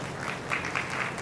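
Audience applause welcoming Rameshbhai Yadav, president of the Shyamdham temple, at a Vasavad community get-together; a short, steady burst of clapping from a crowd, fairly loud and close, with no talking over it.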